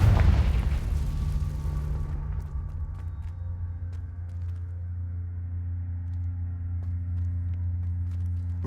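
In Hogwarts Legacy a Confringo spell goes off as a loud blast, its boom rumbling for about two seconds before settling into low ambient hum.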